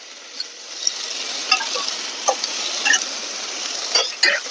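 Tomatoes with a little salt sautéing over onions in a pan give a steady, close, bright sizzle, broken by a few sharp spatula scrapes and taps.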